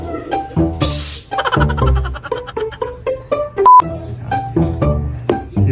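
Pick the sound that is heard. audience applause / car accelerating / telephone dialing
telephone dialing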